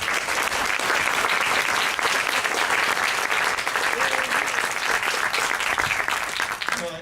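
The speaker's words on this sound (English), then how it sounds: "Let's give him a round of applause for his service" An audience at an Army major general's retirement ceremony claps for his service, a loud, dense and continuous round of applause that holds steady for several seconds before starting to thin at the end.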